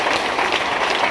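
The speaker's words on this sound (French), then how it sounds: "Est-ce qu'on peut donner l'acclamation au Seigneur pour sa parole?" A church congregation bursts into dense, loud applause, many hands clapping together in a steady continuous wash with no pause.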